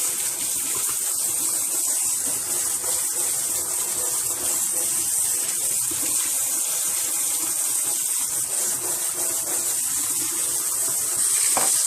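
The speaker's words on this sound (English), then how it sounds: "hot tap water. Until the water runs clean." Hot tap water runs steadily over beef being rinsed, a constant close hiss and splash that lasts the whole time with no voices.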